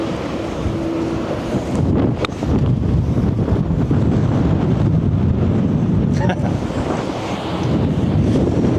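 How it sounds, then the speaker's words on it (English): Strong wind buffets the microphone on a golf course, a loud continuous roar with steady rumbling gusts throughout and a brief faint tone near the start. "Again, wind straight off the right."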